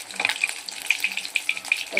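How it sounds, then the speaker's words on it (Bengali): A large rohu fish fries in hot oil, a steady crackling sizzle with frequent sharp pops and spits, close and fairly loud, with no talking. "মাছটা ভাজা চলছে"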